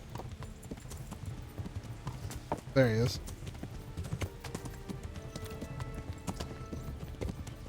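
Horse hooves clip-clop steadily in the Kingdom Come video game, a brief whinny rising midway, while a player talks over the sound.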